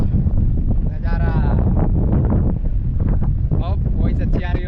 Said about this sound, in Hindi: बहुत तेज इधर पे हवा चल रही